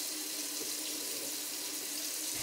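A kitchen tap runs steadily for washing hands before food preparation, a constant close hiss of flowing water with no talking, a brief dip near the end.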